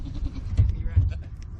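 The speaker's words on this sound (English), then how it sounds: "There's a goat under there." A goat bleats twice out in the snow, two short calls close by, while a person talks affectionately over them.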